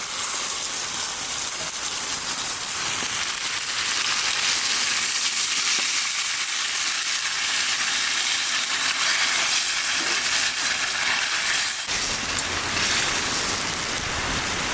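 Fish sautéing with spices in a pan, a dense, continuous sizzle and crackle close by that runs unbroken for about fifteen seconds, briefly intensifying near the end.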